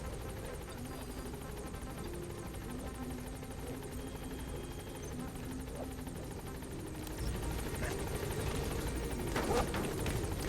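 Helicopter in Metal Gear Solid V whirs with a steady rotor drone that grows a little louder as it lifts off, fairly quiet and with no talk.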